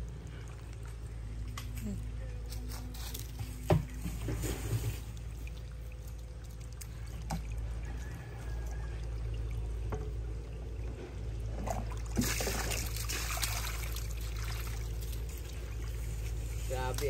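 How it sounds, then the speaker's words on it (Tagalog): Strong water flow runs as a steady rushing pour close by, with occasional splashes and people talking over it. "Yan, ganito kalakas ng tubig dito."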